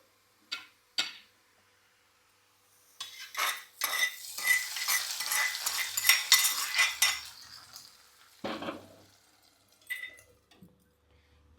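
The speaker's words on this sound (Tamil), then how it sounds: "இப்போ நம்ம தாளித்து கொட்டிட்டு டக்குன்னு மூடி வச்சிடலாம்" Hot tempering is poured into a paneer gravy with a few light clinks of utensils first, then a burst of loud sizzling that gradually settles. Near the end come a couple of clattering knocks from a lid being closed.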